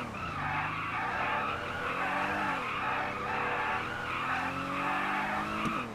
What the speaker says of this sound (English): Doing burnouts.